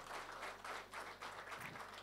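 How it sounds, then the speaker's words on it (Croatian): Audience applause at a New Year's event in Pljevlja honouring a karate athlete, a steady dense wash of many hands clapping, fairly near and continuous with slight swells, no voices over it. "Još jedan aplauz za Nedu Beljkaš"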